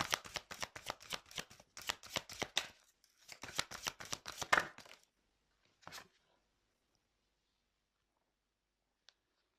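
Tarot cards shuffled in rapid riffling bursts for about five seconds, then a single soft snap as a card is drawn, followed by near silence.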